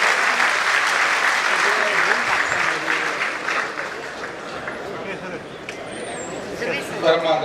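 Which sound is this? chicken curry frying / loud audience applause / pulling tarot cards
loud audience applause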